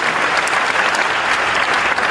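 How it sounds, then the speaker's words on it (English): Seminar audience applauding in a large hall, a dense steady wash of clapping that stays loud and even for the whole stretch without a break. "Thank you for the applause"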